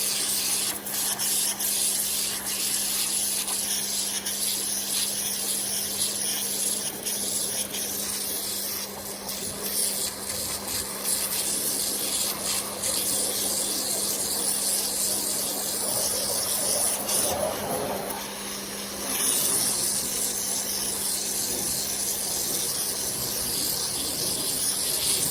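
Pressure washer spraying a Hydra-Sports bass boat, a constant loud hiss and rush of water on the hull with a steady motor hum underneath and a brief change in tone as the spray shifts.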